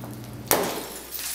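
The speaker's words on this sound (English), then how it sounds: "listen very carefully to the sound when we smash this onion with a hammer" A frozen onion is struck with a hammer and shatters like glass in a single sharp, loud crack, leaving a brief rattling scatter of fragments before quieter background noise returns.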